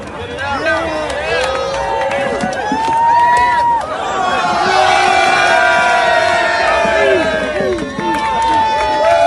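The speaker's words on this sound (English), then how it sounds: "the whole crowd is cheering like this guy's the UFC champion of the world" A large crowd at a Trump protest in the UK cheers and whoops loudly and continuously, with overlapping shouts and voices throughout, swelling into a louder roar midway.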